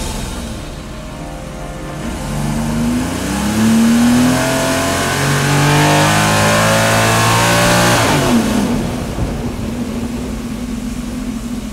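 A jet ski engine in a video game revs steadily, its pitch rising and falling over a continuous mid-range motor drone, then settling toward a lower hum near the end. No voices are heard.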